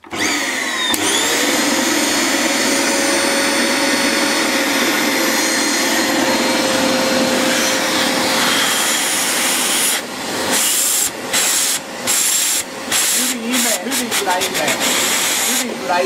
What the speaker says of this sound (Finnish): Imuri toimii. Kun tosta laitan päälle, niin kuunnelkaa.